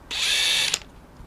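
A cordless impact driver fitted with a DeWALT 90° right-angle attachment gives one short, high-pitched whirring burst of under a second, close and fairly loud, ending abruptly with a faint click.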